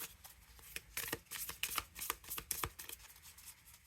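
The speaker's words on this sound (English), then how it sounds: "we just have to shuffle" A tarot card deck is shuffled by hand in quick bursts of riffling and slapping cards, close and crisp, with no talking.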